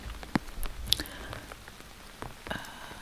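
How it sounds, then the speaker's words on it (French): Rain stick tipped slowly, its pellets trickling in a sparse, steady patter of small clicks and drops with a few sharper taps, close and fairly quiet. "cet effet de pluie perdure dans la longueur"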